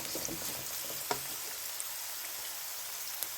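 Onions frying in two spoonfuls of vegetable oil give a steady, faint sizzling crackle, with a single sharper pop partway through and no talking.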